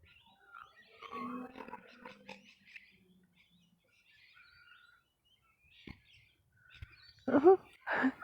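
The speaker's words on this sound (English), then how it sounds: "Oh, bird right in front of me here." A small bird calls close by outdoors in a few short chirps and tweets, quiet and intermittent, with a couple of louder bursts near the end and faint background sounds between.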